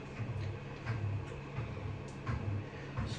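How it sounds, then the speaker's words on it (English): A washing machine runs in the background, giving a steady broadband whir with a low rumbling hum and faint periodic thumps as the drum turns, constant and moderately loud, with no voices. "The washing machine's on."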